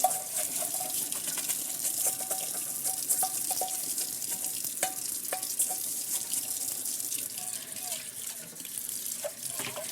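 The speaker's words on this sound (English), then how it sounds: "Washing a dish." Water runs steadily from a kitchen tap while a dish is washed by hand for a custard being cooked for browned butter bourbon ice cream, a continuous moderate splash with small clinks and knocks, no talking.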